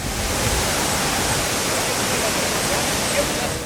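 Palaruvi waterfall roaring in a steady, unbroken rush of falling water, loud and close with broadband hiss and no voices.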